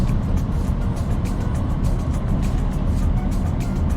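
A Mercedes-Benz Arocs 2536A 4x4 rigid truck drives with a loud, steady low engine and road rumble, heard continuously from inside the cab.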